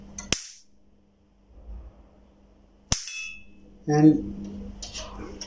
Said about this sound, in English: it is giving a zap sound